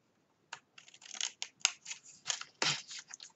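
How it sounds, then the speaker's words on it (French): Scissors snip through paper while a handmade 10x10 mini album is assembled, giving a close run of crisp, uneven cuts and short snips with small pauses between them. "et là je vais venir prendre mon ciseau"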